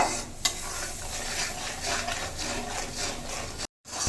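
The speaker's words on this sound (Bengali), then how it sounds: "আন্দাজ মতন হলুদ, লবণ হলুদ দিয়ে একটু ভালো করে মশলাটা একটু হালকা করে কষিয়ে নেব।" Spice paste with turmeric and salt is sautéed in a pan for a prawn and cucumber curry: soft, repeated spatula scrapes over a gentle sizzle, fairly quiet and close, with a short silent break near the end.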